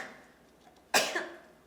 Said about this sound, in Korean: 기침해.